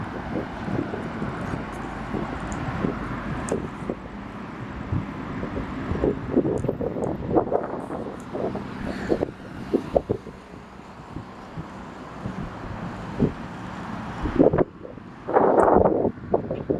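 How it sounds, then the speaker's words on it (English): Night traffic on Thika Road around 8 p.m.: vehicles rumble and pass close by in uneven waves, mixed with gusty wind noise on the microphone. "So this is Thika Road at night, only at around 8 p.m."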